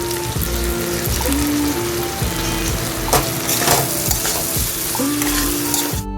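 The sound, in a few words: stirring fried vegetables into cooked spice masala in a pan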